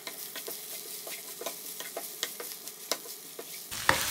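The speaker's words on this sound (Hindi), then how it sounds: "आलू हमारे अच्छे से फ्राई हो गए हैं" Potatoes and mince fry in a pan with a steady sizzle, while a utensil scrapes and stirs in regular strokes.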